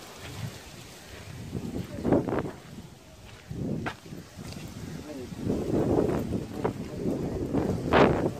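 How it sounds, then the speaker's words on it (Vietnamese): Strong wind on a mountain buffets the microphone with a constant rumbling roar that rises and falls in gusts, while a person talks over it. "Gió mạnh lắm luôn."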